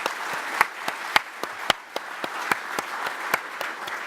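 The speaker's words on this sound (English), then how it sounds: "could you stand up, please, so we can thank you with a round of applause?" Scattered clapping from an audience thanking committee members at a propulsion and energy conference: a handful of sharp, separate claps, spaced irregularly, moderately close, with no speech.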